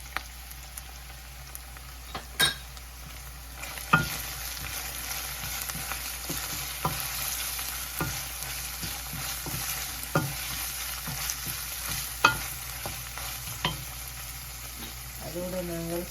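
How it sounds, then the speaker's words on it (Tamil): Mustard and cumin seeds crackle and sizzle in hot oil in a pan, a steady frying hiss broken by sharp pops and stirring clinks throughout, with no one talking. "கடுகு, சீரகம் போடுவோம்."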